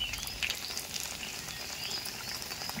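Sago fritters frying in hot oil at medium heat, a steady close crackling sizzle throughout with no talking.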